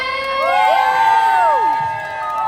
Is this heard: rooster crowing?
no